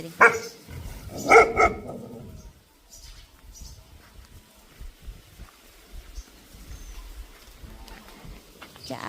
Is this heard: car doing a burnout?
no